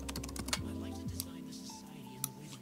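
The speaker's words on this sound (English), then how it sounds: "let's type our first and last name." Keys clatter on a computer keyboard as a first and last name are typed during a lab review session: quick, close, light clicks in short uneven bursts over a faint steady hum, with no voice.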